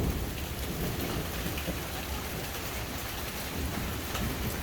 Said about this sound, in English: I love the sound of thunder and lightning.